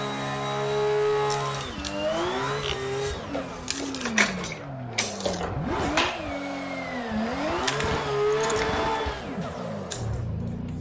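Toyota race car engine in the Assetto Corsa driving game, revving up and down through gear changes with rising and falling pitch sweeps, loud and continuous, alone without talk.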